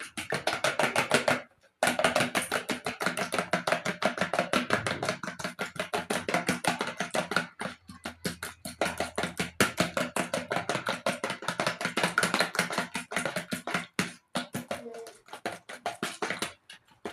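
Egg cracked for soft cotton twist doughnut dough being beaten in a bowl, a fast steady run of tapping, clicking strokes close up, with a short pause near the start.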